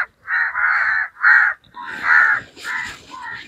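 Crows nesting in trees around Jaffna give a series of loud, close caws: about six harsh calls in quick, uneven succession, with no talk.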